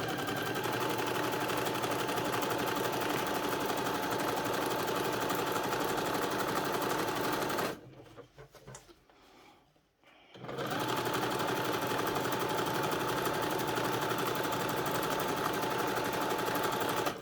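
A sewing machine runs a zigzag stitch along raw fabric edges of a doll's lab coat, a fast steady whirring rattle that pauses briefly midway, then resumes at the same close, even pace.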